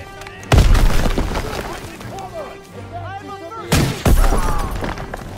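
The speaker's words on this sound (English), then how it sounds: "That's a grenade." Two heavy booms of grenade explosions in the World War II shooter Call of Duty WW2, each a sudden loud blast with a decaying rumble, separated by battle noise and someone talking.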